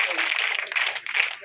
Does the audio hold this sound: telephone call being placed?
no